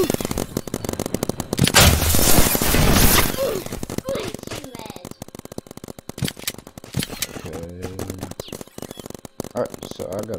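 Rapid paintball gunfire from a Roblox paintball game, with bursts of loud popping shots, a dense barrage early on and scattered shots afterward, mixed with a player's voice and other game noises.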